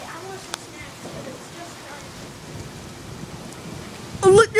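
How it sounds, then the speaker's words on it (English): Heavy rain falls steadily in a Colorado thunderstorm, a constant soft hiss with low rumbles of thunder and a brief loud burst near the end. "There's a lot of dust and a ton of rain coming down."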